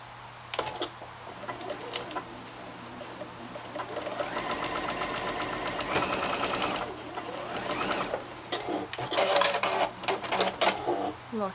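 A sewing machine back stitching short face mask seams at the ends, running in a sustained mid-clip burst with shorter bursts around it, with some talk present.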